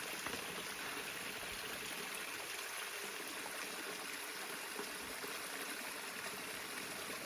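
Steady, gentle trickling of a small mountain stream flowing over rocks on the Appalachian Trail among rhododendrons, continuous and fairly close, with no voices.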